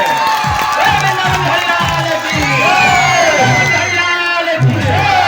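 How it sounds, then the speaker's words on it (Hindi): A loud crowd cheering and whooping with applause at a Janmashtami devotional singing program, welcoming a donation. Voices shout over continuous clapping, and a strong rhythmic drum beat runs underneath. "जोरदार ताली से स्वागत होना चाहिए"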